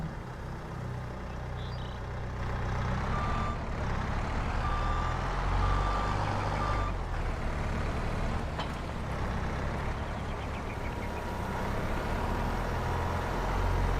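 A yarder logging machine in Farming Simulator 22 runs with a heavy engine rumble while intermittent high reversing beeps sound in a regular rhythm, loud and close, with no talking.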